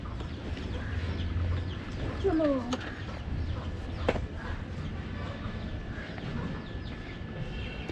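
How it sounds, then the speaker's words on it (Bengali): Chickens perched on a parked car, a short run of clucks over a busy outdoor background with traffic-like rumble and faint voices. "কতগুলো মুরগিগুলো একদম হেগে মুতে সব কিছুই করছে গাড়ির ওপরে"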